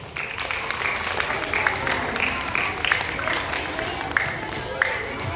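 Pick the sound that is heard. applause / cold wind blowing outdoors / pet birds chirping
applause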